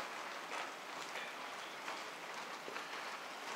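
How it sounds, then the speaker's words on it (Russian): Steady rain patters down onto plastic sheeting stretched over a shed under construction, a dense even hiss with soft scattered drops, moderately loud and continuous with no voices. "Вон у нас дождь идет"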